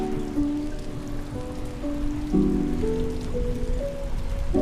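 Steady monsoon rain falls in a rural village, a dense, even hiss of drops on surfaces that holds at a constant level throughout.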